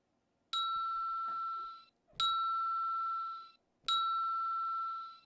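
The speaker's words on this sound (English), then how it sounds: "I think I have a little bell." A small handheld bell dings three times at an even, unhurried pace, each strike ringing clear and bright before fading over about a second, with a faint rustle of handling between strikes and no talking.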